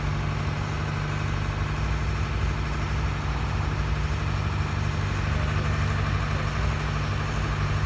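A steady engine drones without pause, a low, even rumble that stays loud and constant throughout with no voices.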